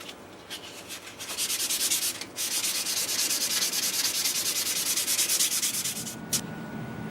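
Rhythmic back-and-forth strokes of a cork sanding block rasp across a wood veneer TV cabinet, quick and steady, close by and moderately loud, with a brief pause partway through.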